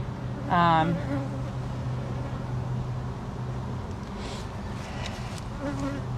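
Honey bees buzzing at a crowded, messy hive, a steady low drone with a brief louder close pass of a bee near the start, continuous throughout.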